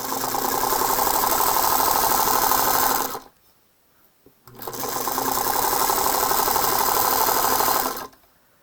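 Sewing machine stitching borders onto fabric placemats, running loud and steady in two long bursts separated by a short pause, with no talking.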